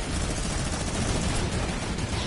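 Sustained minigun fire in a console shooter game, a dense continuous roar of rapid shots filling the whole stretch at steady loudness with no talk over it.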